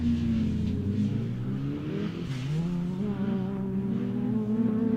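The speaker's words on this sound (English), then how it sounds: "Certainly that anti-lag on that turbocharged Escort working hard today." A turbocharged Escort rally car with anti-lag drones loudly and steadily, its engine pitch dipping midway and climbing again as it revs hard, close by with no talk.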